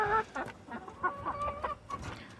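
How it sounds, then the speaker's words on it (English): Buff Silkie chickens cluck and murmur close by in short, irregular bursts, with a few higher, drawn-out calls mixed in. "these are my newest Silkies"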